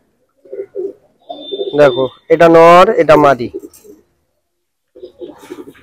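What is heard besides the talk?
Malwai pigeons cooing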